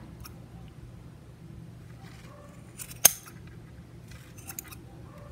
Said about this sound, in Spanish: Cortamos aquí abajo.